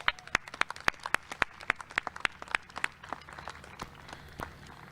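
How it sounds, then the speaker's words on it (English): A sparse round of applause from a small group, sharp individual claps ringing out in a quick irregular rhythm that thins and softens after a few seconds. "Another round of applause,"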